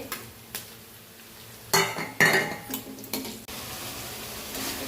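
Spices tipped into a pan of cooking onions, with clattering utensil scrapes and clinks against the pan over a steady low sizzle, several short bursts in a row.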